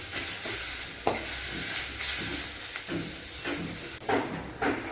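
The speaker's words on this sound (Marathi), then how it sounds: "त्याच्यामध्ये आपण परत कोथिंबीरही टाकणार आहोत, तेही परतवून घेतोय." Ginger, garlic and coriander sauté in a pan for a spiced chicken sukka masala, with a steady close sizzle broken by scraping stirs.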